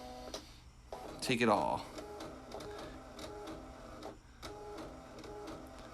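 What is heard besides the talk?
Canon StarWriter Jet 350C inkjet printer printing a page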